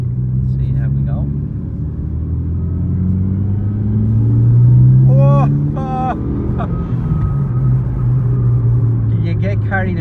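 Mitsubishi Evo 1 turbo car driving on a road with its timing off, a steady low engine rumble rising and falling as it accelerates, with someone talking over it throughout.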